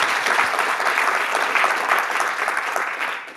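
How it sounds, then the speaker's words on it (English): Talk audience at a Python programming presentation clapping steadily, a dense even wash of applause from a room full of people that fades slightly at the end. "let's give him a round of applause"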